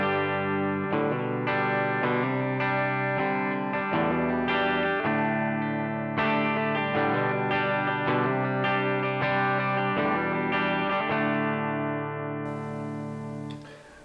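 Electric guitar played through a Benson preamp pedal alone, warm and moderately driven, with sustained chords and picked notes ringing continuously for the whole stretch, no talking.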